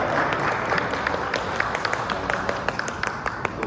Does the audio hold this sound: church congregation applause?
yes